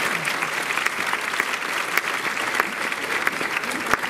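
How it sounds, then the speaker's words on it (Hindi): An auditorium audience claps in a continuous, moderately loud burst, with sharp individual claps standing out from the dense patter. "आप पहले ताली मार दीजिए"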